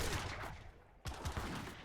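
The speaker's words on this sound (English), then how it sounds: "Look at the destruction from those heavy cannons." Heavy cannons firing in a strategy video game, a rapid cluster of booming blasts with a brief gap before another burst of explosions, dense and close with no talk.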